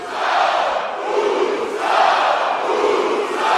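WWE wrestling arena crowd chanting loudly to motivate a wrestler, a massive roar of voices rising and falling in rhythmic waves, close and full, with no individual speech.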